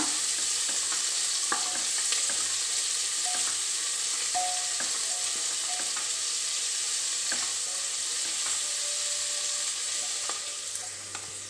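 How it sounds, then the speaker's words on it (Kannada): Onions fry in a pan until brown for a prawn and coconut milk biryani, giving a loud, continuous sizzle broken by occasional scraping stir strokes, with no voices. "ಒಂದು ಈರುಳ್ಳಿ ಬ್ರೌನ್ ಕಲರ್ ಅವಡು ಆಯ್ನ ಫ್ರೈ ಮನ್ಪುಗ"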